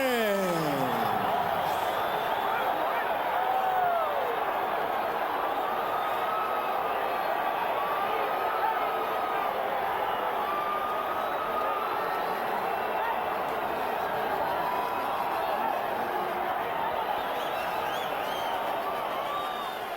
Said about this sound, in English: the crowd reacts to the split decision in favor of Erik Morales